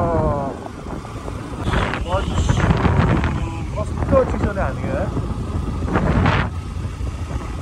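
Strong wind in Nepal's Mustang district buffets the microphone with a steady roaring rush, while a person talks over it.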